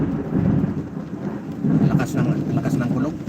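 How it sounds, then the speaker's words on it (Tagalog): Thunder rolls through a rainstorm as a deep, continuous rumble that swells louder toward the end, with steady rain hiss underneath. "Lakas ng kulog."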